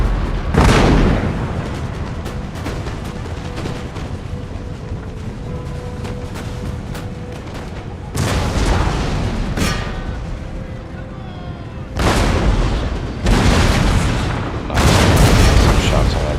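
Artillery and musket volleys from a Total War: Empire battle with Russian forces, heard as several heavy booming bursts at intervals with rumbling decay between them. A voice talks underneath.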